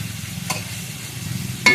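Small boiled field snails, gathered for a potato snail curry, stir-fried in a pan with coriander powder. A steady close sizzle runs throughout, with two brief louder stirring scrapes.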